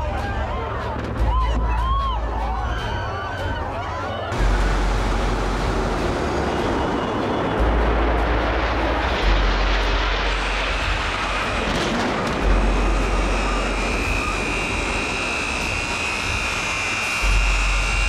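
A jet airplane roaring overhead during the September 11, 2001 attacks, a loud sustained engine roar over an outdoor crowd with excited voices and chatter.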